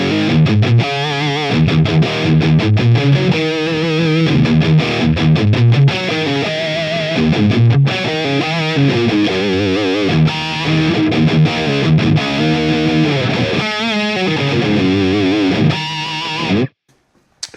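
Electric guitar played through a Line 6 Helix Fatality amp model, with no cuts, reverb or shelf EQ, chugs a loud, heavily distorted rhythmic riff with palm-muted bursts and ringing chords that stop abruptly at the end.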